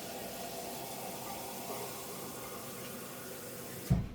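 A steady, hissing rush of tap water pours continuously into a pan, ending with a brief clunk near the end.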